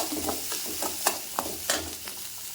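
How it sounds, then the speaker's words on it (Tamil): Onion, ginger and garlic sautéing in a pan, a soft continuous sizzle punctuated by a few quick spatula scrapes and taps at irregular intervals. "இஞ்சி ஒரு மூணு பல் பூண்டு அதையும் போட்டு வதக்கிக்கலாம்"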